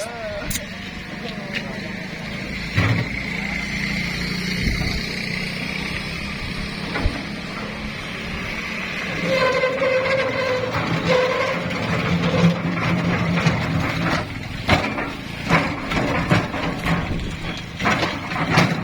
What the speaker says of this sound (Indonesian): ini sekarang lagi kita tarik mesinnya ya.